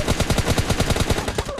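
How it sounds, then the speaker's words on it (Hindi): Rapid automatic gunfire in the mobile battle royale game PUBG Mobile Lite: a steady, loud stream of closely spaced shots, roughly ten per second, firing continuously with no pauses. "हमें पता नहीं कहां से गोलियां पड़ती हैं और हम घुटनों में आ जाते हैं।"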